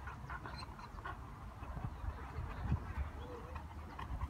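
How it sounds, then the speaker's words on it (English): A bird calls a few times outdoors, faint and partly masked by steady low background noise, with a short call standing out near the end. "Just a bird."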